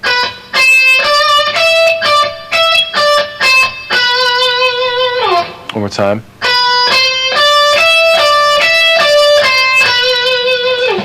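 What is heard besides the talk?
distorted electric guitar lick crossing strings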